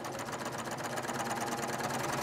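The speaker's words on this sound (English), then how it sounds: "Simply stitch the line of stitching." A serger sewing a cover stitch on fabric runs in a fast, even mechanical whir with a rapid rhythmic needle chatter, close and steady for the whole stretch.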